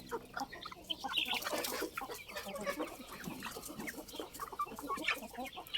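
Farmyard chickens of a Thai fighting-cock line, fed ground corn and paddy rice, cluck repeatedly in a steady, busy chatter at close to moderate distance, with no one talking over them.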